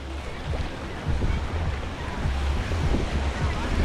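Sea waves wash and surge at Playa Fundadores beach in Playa del Carmen, a steady close roar with wind rumble on the microphone and no clear voices.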